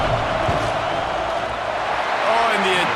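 Packed college football stadium crowd at LSU vs Alabama roaring steadily during a field goal attempt, a dense loud wash of noise with a commentator talking over it.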